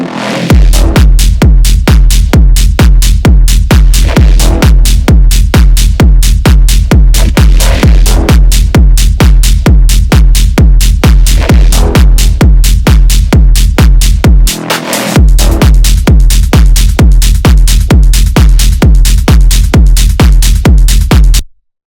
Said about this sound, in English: If we listen to it with all the percussion, kick and bass, sounds like this.